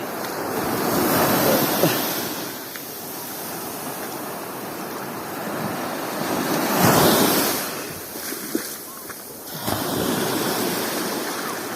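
Strong current and surf at a beach, a loud continuous wash of waves and rushing water with wind buffeting the microphone, swelling into several louder surges.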